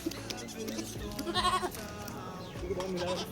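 Goats bleat near a goat shed, with a couple of short nasal bleats standing out over a dense, steady background of noise and faint voices.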